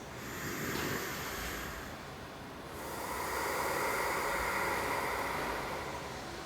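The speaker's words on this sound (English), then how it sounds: "This is the Ujjayi breath, the air passing at the back of the neck, near the epiglottis." Ujjayi breathing during a yoga flow: soft, airy rushes of breath passing at the back of the throat, a slow inhale then a longer hissing exhale, close and quiet with no speech.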